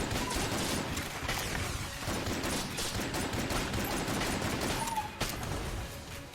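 Plague Pistol firing in the video game Enter the Gungeon, a dense stream of rapid shots and clattering hits that runs without pause at steady volume, with no talk over it.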